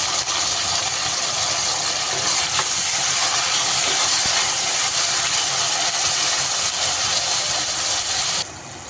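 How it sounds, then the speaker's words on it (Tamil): Onions, tomatoes and curry leaves sautéing in a pan for a drumstick prawn curry, a steady loud sizzle and hiss that holds evenly for most of the stretch before dropping off near the end, with no talking. "தக்காளி சேர்த்து நல்லா வதக்கிக்கும் கொஞ்சமாக கருவேப்பிலையும் சேர்த்து வதக்கிக்கும்"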